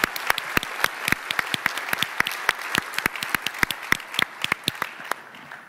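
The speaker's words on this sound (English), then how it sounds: "Give a round of applause to Lamore, please." Audience applause at the 2013 O'Reilly Open Source Awards ceremony: a modest room of people clapping with distinct, crisp individual claps in a steady patter, close and clear, gradually thinning toward the end.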